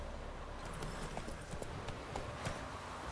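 Roach, Geralt's horse in The Witcher 3, galloping through a swampy area by a village, with steady rhythmic hoofbeats at moderate distance and fairly quiet, running continuously without speech.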